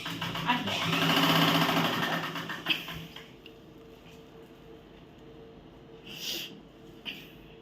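A sewing machine runs in a fast, steady burst while stitching a folded old mat, loudest in the first few seconds and then easing off, with a few short later whirs and clicks.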